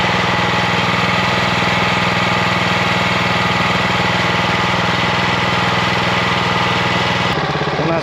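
Freshly started Hangkai 7HP four-stroke outboard motor running at a steady idle up close, a loud, even mechanical chug that shifts briefly in tone near the end, with no talking.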